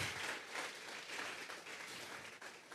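A church congregation applauding during a Sunday service, a faint, distant wash of clapping that carries on steadily with no talk over it.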